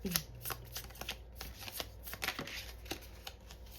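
Tarot cards being shuffled by hand, a continuous close riffling and flapping with irregular soft slaps, fairly loud and without talk.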